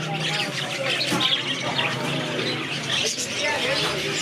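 Pigeons and other caged birds at the Jhang Bazar bird market in Faisalabad chirp and call busily, overlapping one another in a dense market bustle with indistinct voices underneath.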